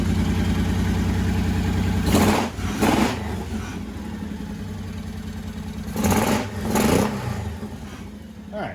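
A 1985 Honda VT1100 Shadow V-twin motorcycle engine running for the first time in 25 years, a loud steady idle broken by two pairs of sharp throttle blips and revs.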